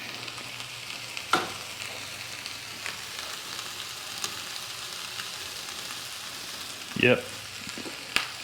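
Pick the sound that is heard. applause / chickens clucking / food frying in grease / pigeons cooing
food frying in grease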